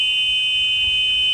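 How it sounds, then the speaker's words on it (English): Bus emergency exit alarm buzzer under test, a loud continuous high-pitched electronic buzz held steadily throughout, close and alone without speech. "when you open it, don't actually open it, just test for the alarm"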